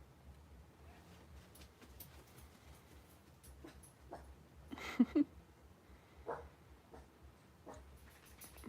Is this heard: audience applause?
no